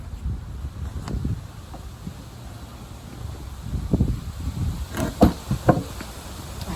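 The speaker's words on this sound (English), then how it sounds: "Oh, here comes the wind." Wind blowing outdoors beside a broken chicken coop, low gusty rumbling buffets on the microphone that rise and fall, strongest in several bursts near the end, with light rustling and no talk.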